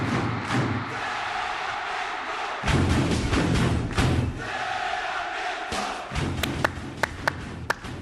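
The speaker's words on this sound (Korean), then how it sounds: "대한민국! 2002년 월드컵. 네, 그때 응원했던 박수 아닌가요?" Korean 2002 World Cup cheering chant with rhythmic clapping: a crowd shouts in bursts between pauses, followed by a series of sharp, evenly spaced claps near the end.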